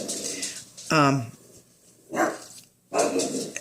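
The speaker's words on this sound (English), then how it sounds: "They're having a fit here, barking at every bird that flies by." Pug dogs let out a few short, sharp barks with pauses between them, nearby and moderately loud, while birds fly past outside.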